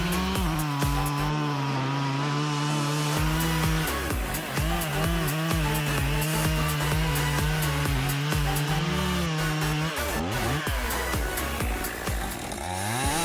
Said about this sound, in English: the Husqvarna 55 handles large logs with ease, demonstrating the cutting ability that sets it apart